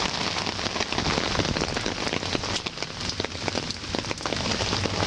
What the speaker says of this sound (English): it's still pouring the rain